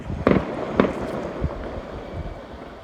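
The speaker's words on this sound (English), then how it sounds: "We got some fireworks here going off for New Year's." Fireworks go off for Chinese New Year in Shanghai, several sharp bangs and a dull distant thump in quick irregular succession over a rumbling outdoor background, heard from some distance.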